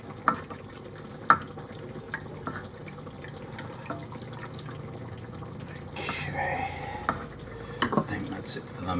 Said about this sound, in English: gradually adding it slowly while stirring